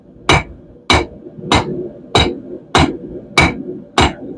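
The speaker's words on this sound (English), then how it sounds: "For this, I'm using the cross peen to help draw it out faster. You can also do this over the horn of the anvil like this." A cross peen hammer strikes hot metal on an anvil to draw it out while forging a swing arm cooker: seven loud, evenly spaced ringing blows, close up.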